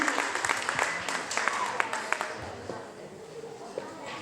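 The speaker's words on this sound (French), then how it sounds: "On les applaudit très fort." An audience at a school spelling contest claps for the winners, fairly close, with distinct individual claps over a steady patter, thinning out toward the end while a voice speaks.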